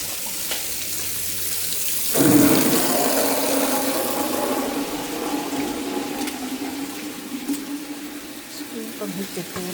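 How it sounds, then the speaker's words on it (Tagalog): Water runs steadily from a tap into a sink, a loud continuous gush that starts abruptly and flows without a break. "Patayin muna natin yung tubig."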